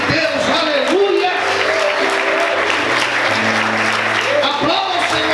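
A church congregation claps steadily through an evening worship service, a dense, continuous wash of applause lasting the whole stretch, with sustained musical tones and a raised voice underneath.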